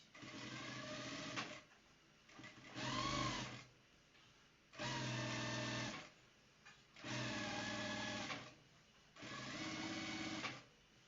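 Sewing machine running a lockstitch on a vintage shirt, a close mechanical whir in five bursts of a second or two each, separated by short pauses, with no voice.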